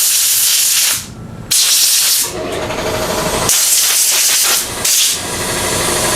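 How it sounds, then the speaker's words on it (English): An air compressor running, a loud close hiss of rushing air that cuts out and restarts several times, with shifting tone between bursts and no talk. "Let that compressor go for a little bit."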